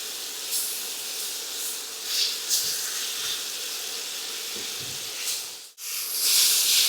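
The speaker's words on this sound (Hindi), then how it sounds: "बस जस्ट थोड़ा सौटे करना है।" Chicken kebab mixture with lemon juice sizzles in a hot pan, a steady close hiss of sautéing that swells as it is stirred and briefly cuts out before resuming.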